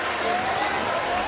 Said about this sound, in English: you can hear the home crowd just getting a little restless